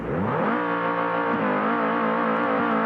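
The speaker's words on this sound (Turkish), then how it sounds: "Vallahi şirin güzel bir sesi var arabanın. Üst düzey bir sesi var ama biraz bağırıyor." A car engine in the BeamNG.drive driving game revs hard and holds a loud, steady, buzzing high-pitched drone, with slight pitch wavers, throughout.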